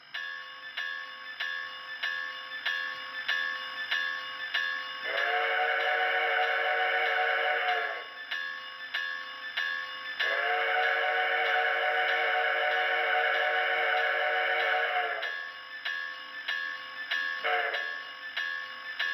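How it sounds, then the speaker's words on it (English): A rapid, steady bell dinging throughout, interrupted by two long horn-like whistle blasts and a brief short toot near the end, from a model train locomotive's sound system. "we obviously have to listen to the bell and the whistle"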